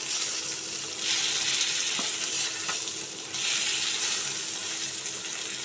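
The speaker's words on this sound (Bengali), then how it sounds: "তারপর আমি এটাকে কড়াইয়ে তেল গরম করে ছেড়ে দিয়েছি।" Parse fish frying in hot oil in a kadai, a loud, steady sizzle that swells and eases in waves, with a couple of faint clicks of utensils.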